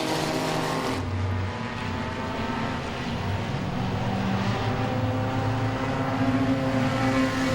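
Race cars roaring around the oval at Langley Speedway during an enduro, a dense, continuous engine drone with overlapping revving tones from several cars passing, loud and steady throughout.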